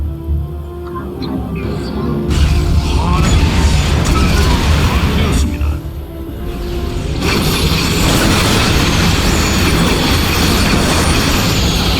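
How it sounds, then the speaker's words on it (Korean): A high-speed train rushing along in StarCraft II's co-op mission aboard a speeding rail line, a loud, continuous rumbling roar with mechanical clatter and a couple of brief booming shifts, steady throughout and layered with other game sounds. "열차가 빠른 속도로 움직이고 있습니다."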